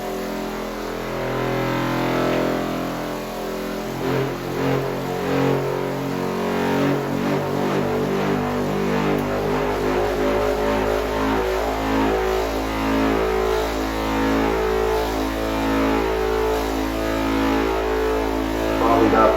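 A motor run at 12 volts spins up an antigravity device to about 3,000 RPM, a loud steady whirring whose pitch climbs as it speeds up and holds a rising hum throughout.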